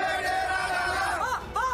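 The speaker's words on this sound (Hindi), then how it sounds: "श्रद्धालु बाबा अमरनाथ के दर्शन के लिए बम बम भोले के नारों" Pilgrims on the Amarnath Yatra chant the Bam Bam Bhole slogan together, a loud, massed crowd of voices with rising and falling cries rolling continuously.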